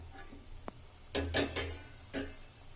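Ridge gourd cooking in oil in a covered pan: a soft, quiet sizzle broken by a few short scraping or clattering strokes in the pan.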